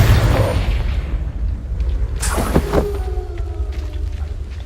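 Deep booming blast of the Confringo explosive spell in the wizarding game Hogwarts Legacy, a heavy rumbling burst followed by a sharp crack and a ringing, whistling tail as it fades, loud and close with no speech.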